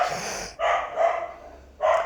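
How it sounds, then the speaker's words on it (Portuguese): A dog barks three times, each bark loud and close with a short pause between, in an indoor room with no talking over it. "meu cachorro tá latindo"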